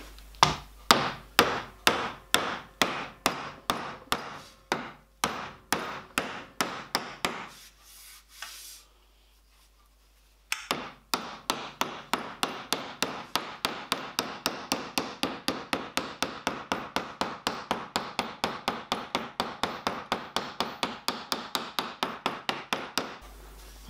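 Hammer tapping a tube through a dolly on the throat plate of a miniature steam locomotive, a long run of sharp, evenly spaced metallic strikes close by. The taps pause briefly, then resume in a faster, steady rhythm.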